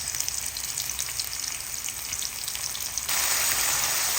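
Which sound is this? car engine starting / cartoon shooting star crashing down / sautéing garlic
sautéing garlic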